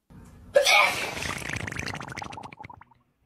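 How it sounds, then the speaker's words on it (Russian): A woman sneezes once, a sharp loud burst followed by a trailing breathy, wet-sounding exhale that fades over about two seconds, close to the microphone. "Чихнула во время этих дней."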